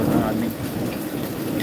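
Steady rain pours down during a storm, a dense, even hiss that stays close and fairly loud the whole time, with no break and no voices.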